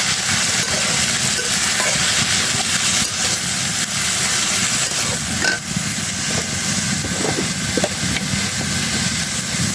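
Sliced bitter gourd, onion and chili sizzle in a hot pan of oil with a loud, dense, continuous hiss. Faint scrapes of stirring come through it now and then.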